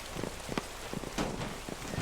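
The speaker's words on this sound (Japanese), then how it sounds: "雨降ってるし" Rain falling in the video game Battlefield V, a soft, steady patter of drops on surfaces with a few brief, sharper taps scattered through, quiet and continuous.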